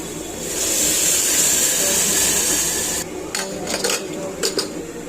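Spiced food being stirred in a cooking pot, a steady sizzling hiss that stops, followed by a few scraping and clinking strokes against the pot, with a voice speaking.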